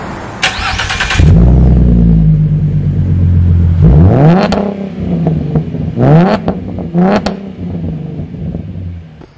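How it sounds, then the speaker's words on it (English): A Ford V6 car fitted with a Flowmaster exhaust, recorded up close from outside. It cranks and catches on startup, settles into a rumbling idle, then gets several sharp revs that climb and fall back, loud with no talking. "show you how nice that Flowmaster sounds with a couple revs"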